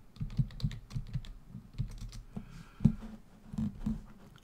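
Someone types a short command on a computer keyboard, a close run of crisp, irregular key clicks with a few heavier strikes, no voices.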